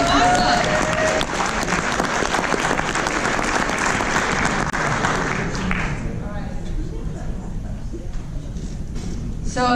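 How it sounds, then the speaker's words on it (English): An audience bursts into loud, sustained clapping for Amanda, dense applause that holds for several seconds before thinning out, with voices talking over the tail end. "You should clap for her."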